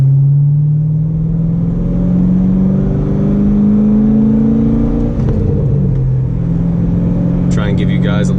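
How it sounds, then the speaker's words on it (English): Inside a C6 Corvette fitted with an SLP axle-back exhaust, a steady low engine drone rises and falls through gear changes as the car pulls away, loud and close, with a brief sharp rattle near the end. "This is a little in-car driving experience with the SLP axle back exhaust."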